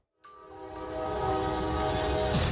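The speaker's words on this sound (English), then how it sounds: "a freight train ripping through a cargo truck stuck on the tracks" Freight train speeding toward a cargo truck stuck on the tracks in New York, heard as a loud, steady horn blast with sustained tonal harmonics over rumbling rail noise, starting abruptly and holding strong to the end.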